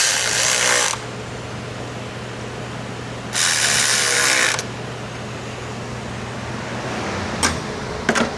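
A ratchet tightens a front-end bolt on a car, with two sustained bursts of rapid clicking separated by quieter garage hum, then a couple of sharp metallic ticks near the end.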